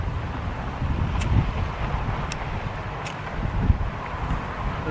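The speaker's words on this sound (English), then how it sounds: "I just can't hear it because we got so much wind" Strong wind batters the microphone in a constant low roar throughout, with a few faint higher clicks or creaks poking through; no speech heard.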